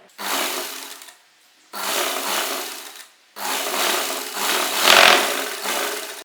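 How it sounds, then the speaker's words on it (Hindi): A sewing machine runs in three loud, steady bursts of stitching on salwar fabric, a double row of stitching, with short pauses between runs and no talking. "यहाँ पर आप डबल सिलाई लगाइए मजबूती के लिए"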